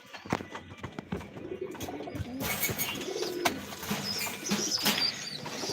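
Several pet pigeons, including white-golden birds, coo in a home loft, with soft repeated calls, scattered chirps and a wing flutter, fairly close and continuous over a busy background.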